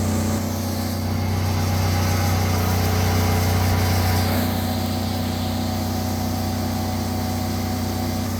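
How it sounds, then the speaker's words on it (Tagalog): A 2 horsepower air compressor runs continuously with a loud, steady mechanical hum and whine, close by and unbroken, with no talking. "Buhay na yung 2 horsepower na compressor."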